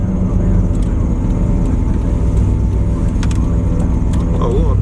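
Racing-built small block short bed truck on 110 octane and 93 fuel mix, engine droning steadily and loud from inside the cab, with people talking over it.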